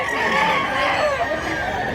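A rooster crows at a chicken seller's stall in a steady, fairly loud call, with busy market noise around it.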